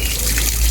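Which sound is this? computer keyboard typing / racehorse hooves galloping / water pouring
water pouring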